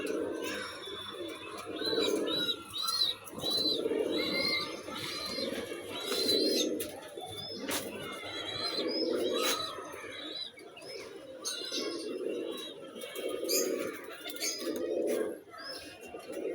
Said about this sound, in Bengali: আমার পাশের বাড়ি কিছু গোল্লা পালে, দেখেন